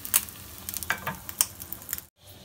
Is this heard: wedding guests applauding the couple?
no